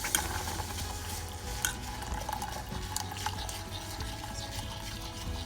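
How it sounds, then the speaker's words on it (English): Evaporated milk stirred into a pecan and coconut cake filling in a pot, with a steady dense bubbling and sizzling wash under occasional utensil scrapes, close and continuous, no talk. "You have to keep stirring."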